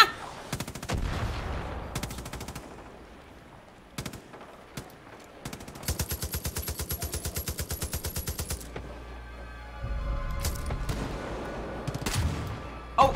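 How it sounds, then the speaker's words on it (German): Gunfire in the video game Far Cry 5, including shotgun blasts, comes as a busy, loud run of repeated shots. A fast, steady burst sits in the middle, with bangs and game sounds before and after it. "Ich schieße einfach mit der Schrotflinte."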